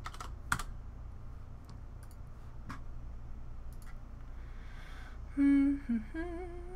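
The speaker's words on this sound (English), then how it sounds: "you guys are always like comments on like how loud my typing is" Loud typing on a computer keyboard during a PUBG Mobile scrim session, with scattered close clacks and bursts of keys, followed by a short electronic tone sequence, no voices.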